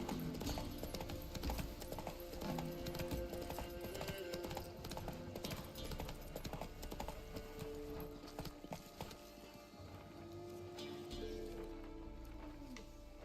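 Hooves of Roach the horse clip-clopping in a video game, a steady rhythmic trot under game music and ambience, with faint talk in the background.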